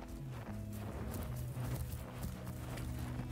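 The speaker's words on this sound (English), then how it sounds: "Oh my god, there's so many footsteps." Many creatures in the dinosaur game Path of Titans tread in rapid, overlapping thumping footsteps, a busy clopping rhythm that runs continuously at moderate volume over a low tonal game background.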